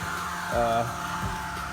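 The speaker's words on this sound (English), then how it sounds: "But what I'm doing here is with a hairdryer" A hair dryer blows with a steady whirring hum on a surfboard repair patch, nearby, swelling briefly louder partway through.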